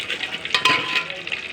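Mustard seeds, chana dal and urad dal frying in a hot pan crackle and sizzle close up in a brief burst, with small pops.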